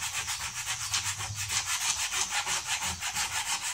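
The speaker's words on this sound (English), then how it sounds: "So I'm going to switch over to sandpaper." Sandpaper rubs back and forth on a damaged wooden toy in quick, even strokes, a rhythmic scratchy rasp with no talking.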